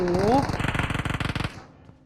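Rapid automatic gunfire in PUBG Mobile rattles in a steady burst of about a dozen shots, with a voice speaking briefly just before it begins.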